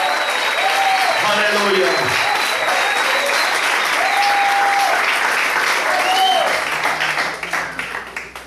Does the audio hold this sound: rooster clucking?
no